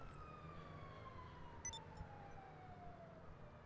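Sirens wail in the distance in the Grand Theft Auto V Online video game, a faint, steady siren tone slowly falling in pitch over a low background rumble, with a few brief clicks partway through.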